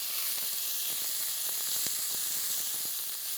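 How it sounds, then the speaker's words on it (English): Bell peppers sautéing in oil in a skillet give off a loud, steady steam hiss with faint crackling sizzle pops scattered throughout. "I got a lot of steam happening in there today"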